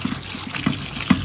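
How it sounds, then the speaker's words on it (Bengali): Gourd leaves washed one at a time in water give soft trickles and repeated splashy dips, close by with no voices. "একটা একটা করে আমি ভালো করে পরিষ্কার করে নিব পানি দিয়ে।"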